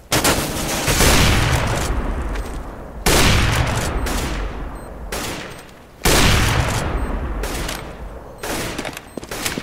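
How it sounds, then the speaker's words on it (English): Gunfire and explosions from a bomb-planting shooter video game come in three loud, dense bursts of rapid shots, each fading before the next one starts. "I'm throwing a grenade."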